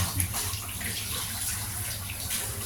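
A household tap runs during home maintenance work, giving a continuous, even rush of water with no other sounds over it.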